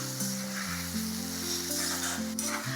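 Tomato with ginger-garlic paste sizzling in a pan for hotel-style dal tadka, a close, continuous frying hiss over a steady humming tone.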